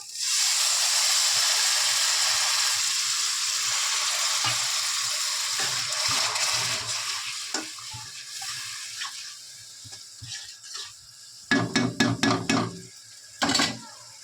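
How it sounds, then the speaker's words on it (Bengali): Water is poured into hot oil for an egg roll curry, setting off a loud, steady hissing sizzle that slowly dies down. Sharp clinks of a utensil against the pan follow near the end. "ঠিক আছে, তেল ছেড়ে দিয়েছে, আমি ঝোলের জন্য দিয়ে দেবো জল।"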